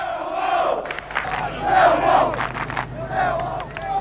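Millwall football supporters chant in unison, a massed rhythmic roar of voices rising and falling in sung phrases, loud and sustained from a packed stand.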